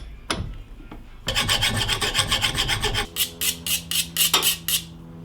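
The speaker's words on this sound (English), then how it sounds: "I put a little chamfer on the edge with the file" A hand file rasps across the cut end of a 3/16 steel brake hardline, smoothing and chamfering it with a few slow strokes, then a run of quick, regular close-up scrapes, with no speech.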